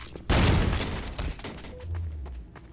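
A detpack explosive goes off inside a small room during a 3v3 tournament match of a team shooter. A sudden loud boom rolls into a rumbling tail, with a few sharper thuds and game effects after it.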